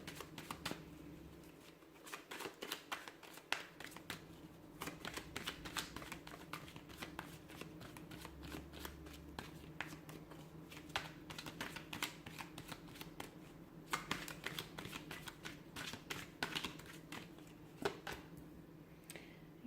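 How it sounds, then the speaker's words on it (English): Tarot cards are shuffled steadily and repeatedly at close range, a soft continuous riffling and flicking with no voices. "So we'll give the cards a shuffle"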